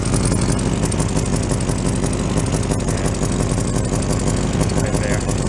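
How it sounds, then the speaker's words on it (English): A 1986 Oldsmobile Cutlass idles with an exhaust leak, a loud, close and steady engine drone with a fast rhythmic pulsing throughout. "So I do believe we developed a bit of an exhaust leak."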